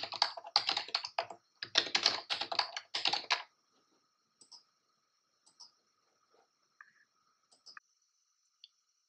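Someone types a password on a computer keyboard in rapid close bursts of keystrokes for about three and a half seconds, then a few sparse faint clicks as it trails off.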